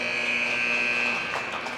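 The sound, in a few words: hockey rink buzzer ending the first period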